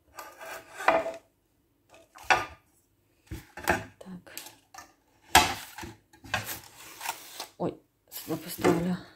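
Two frying pans, sized 20 and 24, are handled and set down, giving intermittent metallic knocks, scrapes and rubbing in close bursts with pauses between, loud and near.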